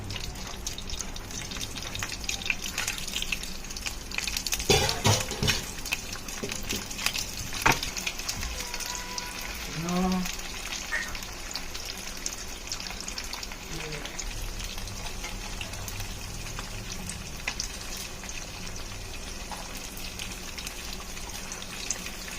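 Egg bread tikki frying in hot oil, a steady crackling sizzle that runs throughout, with occasional clinks and clatter from the pan and utensils.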